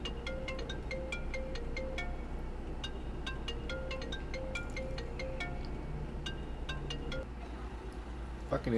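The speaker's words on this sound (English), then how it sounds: "answer the phone" A phone ringtone repeats a short melodic pattern over and over, steady and fairly loud over a constant low background hum, with a few small clinks near the end.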